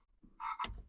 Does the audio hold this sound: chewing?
no